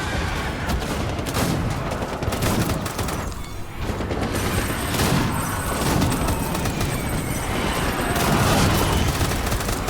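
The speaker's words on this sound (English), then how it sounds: "I think I just picked a bad spot to stand in and got hit by an artillery shell." Artillery shell explosions and heavy gunfire in the video game Death Stranding during a boss fight against a combat veteran, a loud, continuous barrage of booms and bursts with no talking.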